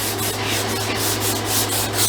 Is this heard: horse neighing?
no